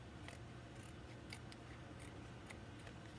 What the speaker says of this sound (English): That's when these scissors come in really handy.